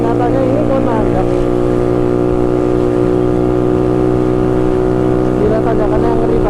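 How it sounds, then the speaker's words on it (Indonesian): A Yamaha Mio scooter grinds up a steep hill on the way to Baturaden, its engine droning loud and steady under strain throughout, close to the rider. "Bilang Mio nggak kuat nanjak, nyatanya ini kuat nanjak."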